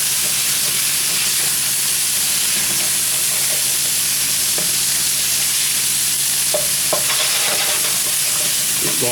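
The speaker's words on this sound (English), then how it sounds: "got to get the temperature up a bit to brown the meat." Beef browning in a hot pan for a goulash, giving a steady, loud, continuous sizzle and frying hiss with faint scrapes of stirring near the end and no talk.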